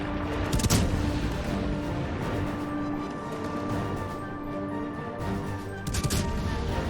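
Kutuzov cruiser in World of Warships fires its 152mm HE main battery, heard as dense, continuous battle noise with sharp gunfire bursts near the start and end, loud and unbroken throughout.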